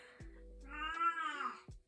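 A pet cat meows once in a long, drawn-out, faint call indoors, framed by soft taps and clicks before and after.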